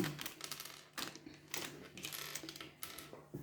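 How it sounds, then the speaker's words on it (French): Scissors snip and crinkle at an Amazon package, giving a string of close, quiet clicks and rustles in uneven bursts. "Je vais mettre un petit coup de ciseau parce que j'arrive pas à l'ouvrir."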